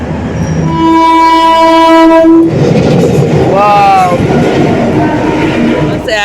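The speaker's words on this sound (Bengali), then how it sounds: "প্যাসেঞ্জার ট্রেনটি কিন্তু ছেড়ে দিয়েছে দেখতে পাচ্ছ" A passenger train pulling out of Raiganj station sounds a long, loud horn blast and then a shorter second blast. Heavy rumbling and rattling of the rolling cars run underneath, close and continuous.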